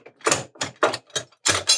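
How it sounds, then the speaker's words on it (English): Metal hitch pin being worked loose and pulled from the mount of a BH70 backhoe attachment, five or six short scraping, clanking metallic bursts in quick succession, close and alone. "Pulling up this pin."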